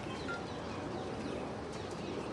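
Several pigeons on a rooftop in Amritsar give soft, low coos that blend into a steady open-air background, with faint chirps from other birds scattered over it.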